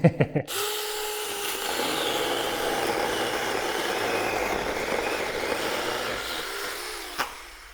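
A small cordless mini saw whines steadily while cutting wood for several seconds, starting after a few brief knocks and ending with a sharp tap.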